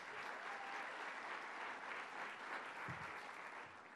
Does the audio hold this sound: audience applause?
yes